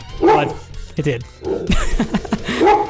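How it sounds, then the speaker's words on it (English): A dog indoors barks at people outside, a few sharp barks and yips mixed in with someone talking over them. "He's barking at people outside."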